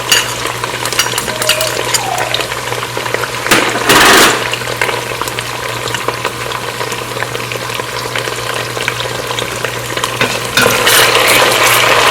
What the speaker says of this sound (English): This we will fry on low heat.